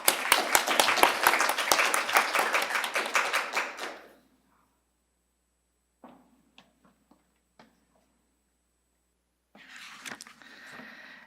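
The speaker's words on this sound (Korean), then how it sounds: "큰 박수 부탁드립니다." A burst of applause at a children's council plenary session in Dongdaemun, dense clapping for about four seconds that stops abruptly, followed by silence with a few isolated taps and then a short swell of room noise.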